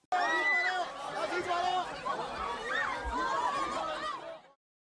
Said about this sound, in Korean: 이강인 선수가 나타나자 환호와 함성이 터져나옵니다